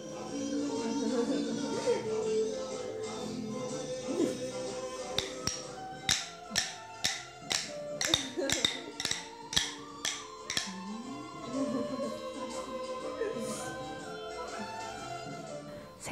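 A group taps out a rhythm on boomwhackers in a music therapy session, with a run of sharp hollow hits in quick succession in the middle. Voices and other sounds fill the clip around the hits.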